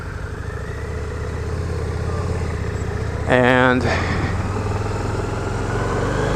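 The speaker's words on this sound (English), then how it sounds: "at least I get to ride a 1250 VRSC motor" A 2015 Harley-Davidson V-Rod VRSCDX with its 1250 VRSC engine idles steadily nearby, a low even rumble that swells briefly before settling back.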